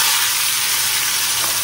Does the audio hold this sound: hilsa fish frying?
yes